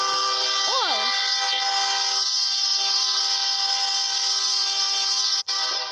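A loud, sustained air horn blast with a dense stack of harmonics fills nearly six seconds, ending in a brief cutoff. Near its start a short rising-and-falling vocal sound shows over the tone.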